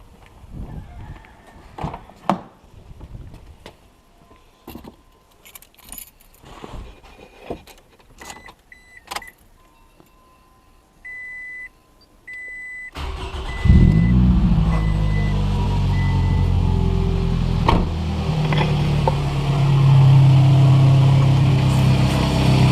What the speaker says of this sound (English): you're going to want to turn on your car